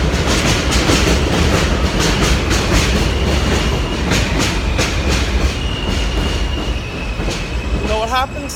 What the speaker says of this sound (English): You know what happens to trains that annoy me during my videos?